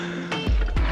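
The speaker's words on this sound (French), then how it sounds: "On commence déjà à faire du hors-piste avec le scooter." A scooter riding off-road on a rough track in Bagan, Myanmar: a close engine hum with bumps and thuds as the wheels jolt over uneven ground, brief and loud.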